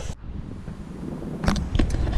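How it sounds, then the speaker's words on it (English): Steady wind buffets the microphone, a low rumbling roar that swells and gusts, with a few sharp knocks near the end. "I apologize for the wind here, a little windy out."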